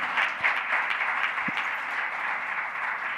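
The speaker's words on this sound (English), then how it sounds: "please clap your hand" Steady applause from a seminar audience thanking senior professors at a philosophy congress round table, a dense even patter of many hands held at one level throughout with no voices over it.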